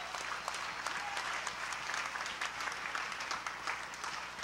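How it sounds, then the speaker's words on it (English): An audience at a cooking event applauds steadily, a dense, even wash of clapping hands from a moderately distant crowd, with no voices heard. "And let's give them a nice round of applause."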